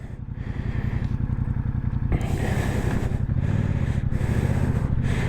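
A Yamaha MT-07 motorcycle engine revs and pulls hard under acceleration for a wheelie, a loud, close, steady pulsing twin-cylinder drone that climbs in pitch and grows rougher midway through, with no talking.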